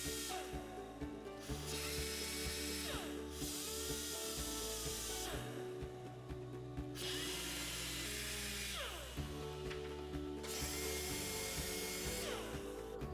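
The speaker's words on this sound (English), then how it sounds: "Start by sanding the tab and bumper in the area where the welding is to be performed." A steady, whirring power sander grinds against a plastic car bumper tab in repeated passes of a few seconds each, loud and close.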